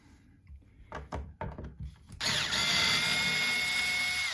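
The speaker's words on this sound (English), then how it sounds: "We'll switch bits again. This is where we'll get rid of all the rusty screws now and the pick guard." A power drill backs rusty screws out of the pick guard of a Yamaha Attitude bass: several light taps and knocks, then the drill whirs loudly and steadily to the end.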